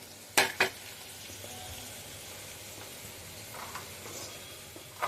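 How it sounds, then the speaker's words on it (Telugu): Mutton keema frying in a pan gives a low, steady sizzle, broken early by two sharp clacks of a spoon against the pan while it is stirred, with a fainter scrape near the end. "అట్లా మధ్య మధ్యలో తిప్పుకుంటూ దీన్ని వేయించుకోవాలి"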